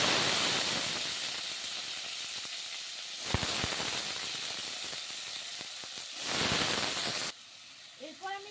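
Diced potatoes frying in mustard oil in a kadai, giving a constant hiss and sizzle with a few sharp crackles and surges, cut off abruptly near the end.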